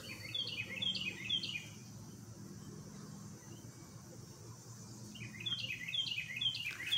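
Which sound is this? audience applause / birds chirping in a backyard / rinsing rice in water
birds chirping in a backyard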